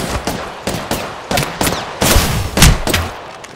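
Gunfire in the video game Apex Legends: a rapid series of sharp, loud shots and short bursts, irregularly spaced and close, with echoing tails between them and no talking.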